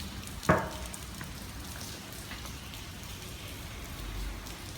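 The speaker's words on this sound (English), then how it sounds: "It's raining. It's raining." Steady rain falls on a rainy-day walk, an even broadband hiss throughout with one sharp knock near the start, no voices.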